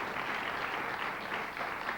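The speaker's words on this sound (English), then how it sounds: "that's worth just a little bit of applause" A studio audience applauds on a 1994 television talk show, the Midday show: dense, steady clapping that stays full and even for two seconds, with no voices over it.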